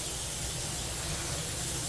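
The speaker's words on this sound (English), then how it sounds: "So we were spraying using our Ecolab palm sprayer" An Ecolab palm sprayer fitted with a foam nozzle gives a steady, close, even hiss of spraying while cleaning a bathroom, continuous for the whole stretch with no talking.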